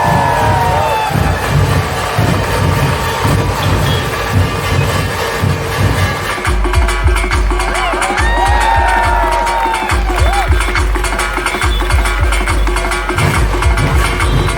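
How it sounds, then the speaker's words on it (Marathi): Crowd noise with cheering rises outdoors in front of a temple in Pune during a traditional martial arts performance, a steady dense roar of many voices that swells after the midpoint, with a loudspeaker voice at the start. "प्रेक्षकांनी टाळ्या वाजून त्यांना प्रोत्साहन द्यायचं आहे"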